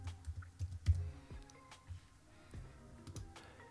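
Quiet, irregular clicking of keys on a computer keyboard as someone types a short search term, the keystrokes close and crisp.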